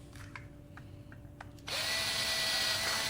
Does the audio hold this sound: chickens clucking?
no